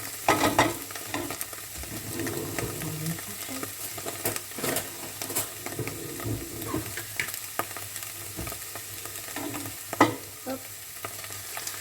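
Chicken, button mushrooms and tomatoes being stirred in a frying pan, with steady sizzling under repeated scraping and clattering strokes of a utensil and one sharper knock near the end; a brief word is spoken early on.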